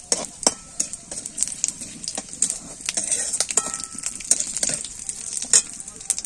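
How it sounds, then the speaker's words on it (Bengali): Dried chili, bay leaf and panch phoron sizzle in hot oil in a pan, a steady close crackle with sharp pops and spits scattered throughout. "তেজপাতা দেব, ফোড়নে আমি 5 ফোড়ন দেব। এটা একটু লাল লাল হয়ে যাবে।"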